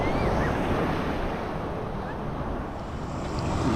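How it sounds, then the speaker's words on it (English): Ocean surf around a swimmer searching for metal in the water, a steady low wash of waves with wind buffeting the microphone, continuous and fairly loud with no voices. "These waves are starting to push me around a little bit."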